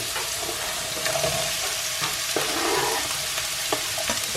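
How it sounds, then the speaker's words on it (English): Finely chopped carrot and onion fry in hot oil in a pan, a steady close sizzle with a few soft stirring knocks, no voices. "I'm going to add some finely chopped carrot and some onion"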